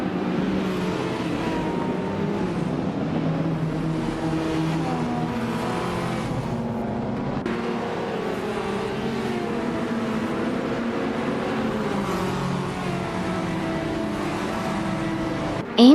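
Race car engines in a racing video game, several cars droning and whining together at high revs, the pitch sliding up and down as they jostle, loud and continuous without talk.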